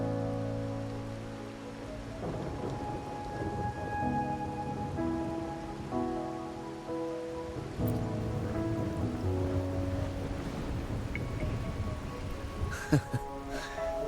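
Steady rain patters across a game scene in Wuthering Waves, a constant hiss beneath sustained melodic music tones, with a brief sharper crackle near the end.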